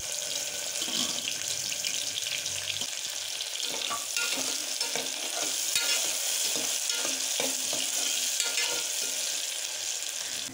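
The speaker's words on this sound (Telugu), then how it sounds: "కొంచెం నూనె వేడైన తర్వాత ఉల్లిపాయ ముక్క వేసుకుని వేయించుకోవాలి." Onion pieces fry in hot oil for a mutton and raw mango curry, a dense crackling sizzle broken by repeated scraping stirs, close and steady throughout, with no one speaking.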